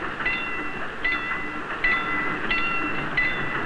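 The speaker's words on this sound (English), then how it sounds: "Must be an 80-car freight." A long Union Pacific freight train passes at a railroad crossing, its steady rolling rumble joined by repeated sharp metallic squeals of wheels on rail, recurring about every second or so.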